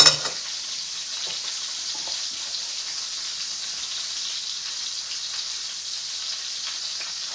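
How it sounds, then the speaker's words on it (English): Chunky food is stirred in a sizzling pot, a steady close hiss of frying with faint scraping throughout and no talk. "Stir it up real good."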